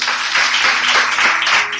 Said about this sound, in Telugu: చప్పట్లు పట్టండి